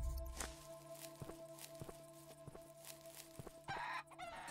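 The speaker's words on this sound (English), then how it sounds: "Give me that chicken." Clucking from a chicken in the survival game Above Snakes, short hen calls and a crow-like cry over repeated footstep thuds and a steady background hum, with a louder rustling burst near the end.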